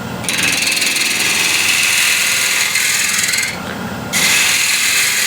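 Bowl gouge making a peeling cut on cross-grain wood spinning on a lathe at 1200 RPM: loud, steady rasping and scraping close by, briefly changing in tone partway through before resuming, with no talk.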